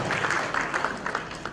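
A stand-up comedy audience claps for a comedian, a short burst of scattered, fairly close hand claps that tapers off unevenly.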